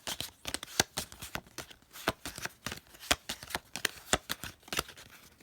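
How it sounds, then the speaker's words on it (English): Playing cards being shuffled during a magic card trick, a dense run of rapid riffling snaps and flutters, close and fairly loud, with no talking. "another set, and shuffle."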